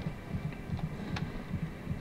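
A heartbeat effect in the horror game Call of Cthulhu, a steady, fast low thump-thump pulse repeating about every quarter second over a soft background hum.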